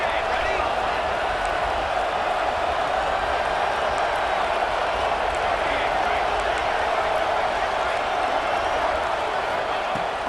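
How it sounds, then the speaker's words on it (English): Stadium crowd in College Football 26 during a red-zone defensive stand, a steady, dense roar of cheering that holds throughout under continuous play-by-play commentary. "And the crowd coming to life here, trying to help this defense down in the red zone."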